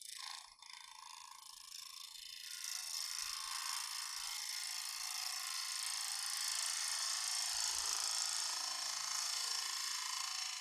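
Wood lathe cutting a hollow form, taking down a small lump near a low spot: a steady high-pitched hiss of the tool on spinning wood builds after a couple of seconds and continues close and loud, with no talking.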